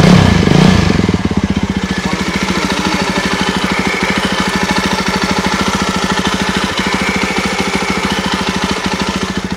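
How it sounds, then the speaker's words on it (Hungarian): A Jawa Bobber motorcycle's engine and fairly quiet exhaust blip once at the start, then settle into a steady, fast, even idle thump, close and loud with no talk. "Nyilván ehhez a megjelenéshez azért sokkal jobb lenne valami mélyebb, erősebb kipufogó hang"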